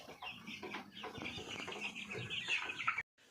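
Coloured broiler-type farm chickens, raised about 45 days on broiler feed, cluck and chatter close by in a busy, uneven stream of calls that stops abruptly near the end.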